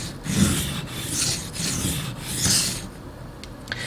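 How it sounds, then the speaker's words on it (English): Pocket knife pushed across a sharpening stone in steady strokes away from the body, a close rasping scrape repeated about five times with no talk. "I'll hold the knife always with my right hand, and I'll sharpen away from me."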